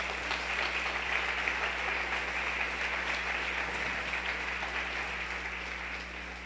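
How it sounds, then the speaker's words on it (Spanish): A church congregation at a Sunday service applauds steadily, a dense, fairly faint wash of clapping that carries on evenly over a low background hum. "Denle un aplauso al Rey, por favor."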